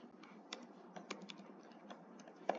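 Rapid typing on a computer keyboard while writing code, a steady run of light key clicks with a few sharper taps, close and quiet with no talking.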